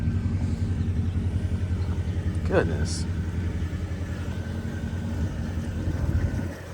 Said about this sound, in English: This car is absolutely stunning and it sounds amazing at startup